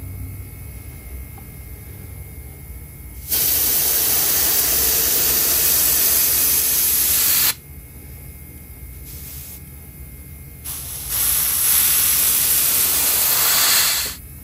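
An airbrush or spray gun paints a Hinkle Trout fishing lure, giving a close, loud, steady hiss in two long bursts separated by quiet pauses and short puffs.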